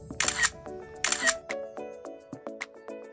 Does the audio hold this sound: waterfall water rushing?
no